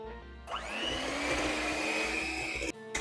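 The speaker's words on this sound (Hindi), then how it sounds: "अब हम इसको मिक्स करते हैं सबके साथ।" An electric mixer whirs steadily through a chocolate ice cream mixture with Nutella, starting abruptly and running loud and close for a couple of seconds before cutting off.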